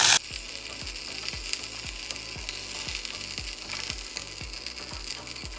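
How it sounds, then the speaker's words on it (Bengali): Pointed gourd (potol) frying in hot oil, a dense close sizzle with a regular ticking clatter repeating about every half second throughout. "পটলগুলো ভাজা আমার রেডি। এবার পটলগুলো আমি উঠিয়ে নিব।"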